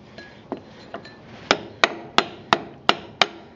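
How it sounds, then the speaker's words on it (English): A hammer drives the tight-fitting wheel bearing inner races of a Kawasaki Bayou 220 front hub: two light taps, then six sharp, evenly paced metallic blows, close up and growing louder, with no voices. "you have to take a hammer"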